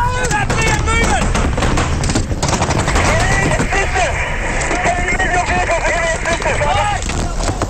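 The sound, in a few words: gunfire during combat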